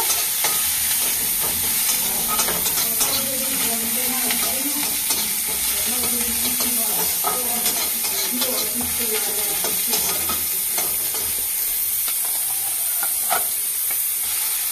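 Black cumin seeds, dried chili and chopped onion frying in hot oil for a shrimp bharta make a loud, continuous close-up sizzle with scattered crackles, and a faint voice murmurs underneath.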